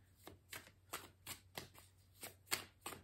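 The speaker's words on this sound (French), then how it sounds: "je vais recouvrir les cartes un peu sombres" Tarot cards from a Light Seer's deck are set down one after another on a table, with about eight soft, papery slaps at an even pace. They are quiet and close, with no talk.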